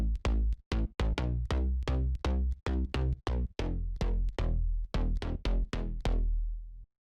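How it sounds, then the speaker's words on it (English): Brazilian slap house bass preset on a Serum synth, a fast bouncy run of short plucked bass notes with sharp bright attacks, steady groove with brief gaps, clear and alone. "It's basically the signature sound of the whole genre and it sounds like this."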